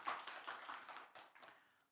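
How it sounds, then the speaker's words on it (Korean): A church congregation applauds a visiting pastor's family with a brief burst of scattered clapping that fades out over about two seconds. "우리 박수로 한번 격려하도록 하겠습니다."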